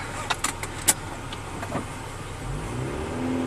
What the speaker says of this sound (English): Car runs really smooth.